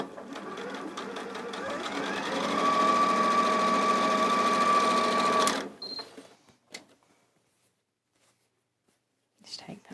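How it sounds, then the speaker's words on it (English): A sewing machine runs continuously for about five seconds, sewing straight across the raw edge of a binding at a quarter-inch seam, with a close, even hum, then stops and leaves quiet handling sounds. "just sew straight across the top of that raw edge there, just using your 1/4 inch"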